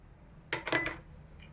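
A spoon clinks a few times against a bowl while kasturi turmeric is added to carrot for a homemade body oil, a short cluster of bright metallic taps, close and alone.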